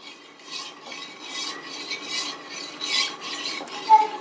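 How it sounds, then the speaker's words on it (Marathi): Whisked curd starter being stirred through a pot of milk for homemade set curd, soft rhythmic swishing strokes about twice a second, close but gentle, with a brief clink near the end. "आणि हा दूध हे असं मिक्स करून घ्यायचं पूर्ण दुधामध्ये."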